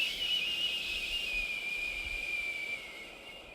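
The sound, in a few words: whistling exhale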